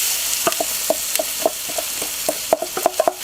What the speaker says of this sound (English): Make sure you give it a good stir from all sides